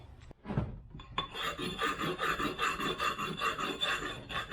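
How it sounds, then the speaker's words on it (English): An old tile rubbing stone grinds along the edge of a birdbath, with a few short scrapes followed by steady, rhythmic rasping strokes heard close and alone. "this is really just an old rubbing stone from tile"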